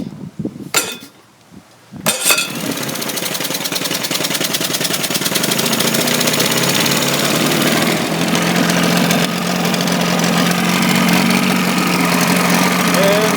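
A 1975 Evinrude 40 HP outboard motor sits in water and cranks briefly a couple of times, then fires and settles into a steady, loud, continuous idle.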